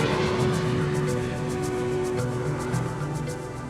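A jet aircraft roars in a steady, loud, continuous wash of broadband noise with a low rumble, holding level throughout and easing slightly at the end, with no voices.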